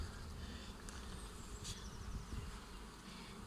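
Dense, steady buzzing of many honey bees close by at a hive, a continuous hum with occasional louder passes of individual bees, no voices.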